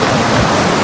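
A river running out of a couple of lakes in thick, storm-ravaged backwoods gives a steady, close rush of flowing water, broadband and unbroken for under a second.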